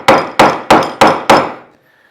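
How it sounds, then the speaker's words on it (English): Five sharp, evenly spaced mallet blows drive a chisel into wood to chop out a bowtie inlay recess in a live edge desk top, each strike loud and close with a short ringing decay before silence. "now that we're all routed out, it's time to chop down"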